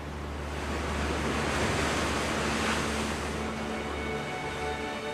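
Strong sea waves off the north coast of Scotland, a continuous rushing wash of surf with wind noise, swelling slightly in the middle and then easing.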